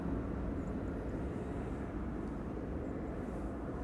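A Boeing 777 engine running up at Amsterdam Schiphol Airport gives a steady, low, broadband rumble, distant and unbroken throughout, with no voices.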